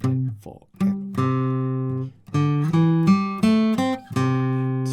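Acoustic guitar plays the fingerpicked intro riff of a song, a series of clear, sustained plucked notes in a repeating bouncy rhythm with short pauses, close and alone.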